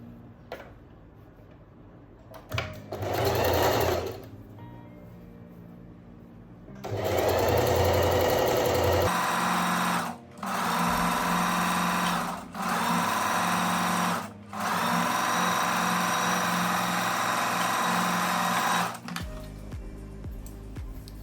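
A sewing machine stitches a blouse sleeve seam with a 1 cm allowance, running in several loud, steady bursts with short pauses between them and a brief quieter run near the start.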